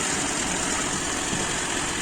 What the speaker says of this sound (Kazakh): Көлік қазір моторы аздап кішкене дірілдеп тұр